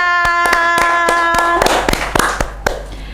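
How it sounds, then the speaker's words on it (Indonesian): A dozen or so loud, close hand claps ring out in a steady rhythm over a sustained musical tone, the claps quickening and becoming uneven after the tone fades. "Tepuk tangan"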